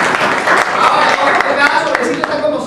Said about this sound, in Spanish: Un aplauso para su compañera.